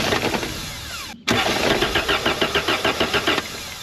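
A Toyota 22R pickup engine cranks briefly with a whirring starter, cuts out, then catches and settles into a rapid, even chugging idle, close and loud, with no talk.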